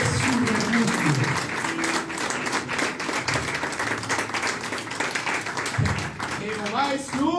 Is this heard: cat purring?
no